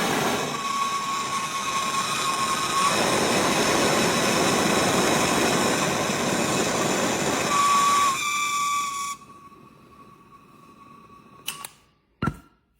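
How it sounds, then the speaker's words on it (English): A Hayes GT3 gas brazing torch fitted with a super fine tip burns with a steady, loud, close hissing roar for several seconds, then cuts out, leaving faint background noise and a couple of sharp clicks. "that's your Hayes GT3 Gas Torch"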